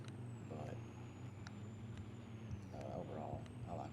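A Ford F250 pickup on a 6-inch lift with 37-inch tires idles in Farming Simulator 25, a steady low engine rumble holding throughout with a faint high whine above it.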